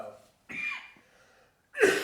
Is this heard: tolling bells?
no